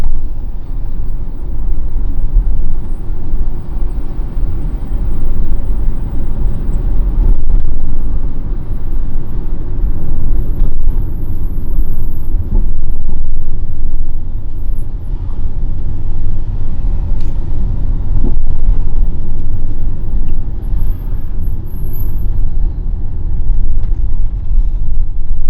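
Road traffic on NWODO Street in Enugu, Nigeria: a steady loud low rumble of nearby engines, as if from inside a moving vehicle, with faint passing vehicles and occasional brief clicks and knocks.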